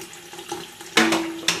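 Warm water running and splashing into a hydration bladder, a soft trickle that grows into a louder close pour with a couple of sudden gushes near the end.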